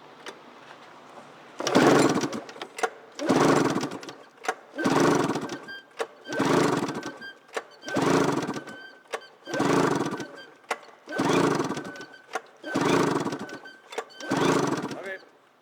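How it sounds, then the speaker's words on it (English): A 2004 Arctic Cat F6 carbureted Sno Pro snowmobile engine is cranked over on its magneto-side cylinder during a compression test. It gives about nine loud, even, rhythmic churning bursts, each lasting about a second, with short pauses between them. "Engine compression test."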